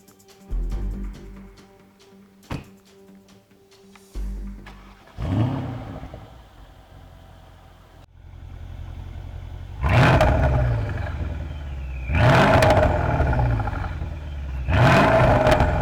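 A 2016 Mercedes-Benz S500 Coupe (C217) with a 4.7-litre bi-turbo V8, first idling with a short rev, then pulling away in several hard accelerations whose rising engine note climbs and drops with each gear change, close and loud, with no talk.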